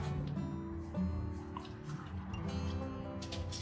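Tomato seeds being rinsed a second time in a cup of water give faint, close-up dripping and sloshing sounds, with small wet splashes scattered over a quiet background.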